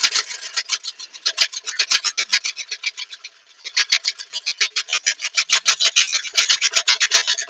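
A woodturning gouge cuts the rim of a wooden farmhouse plate on a lathe, making a steady run of sharp, rhythmic rasping strokes up close, with a brief pause midway.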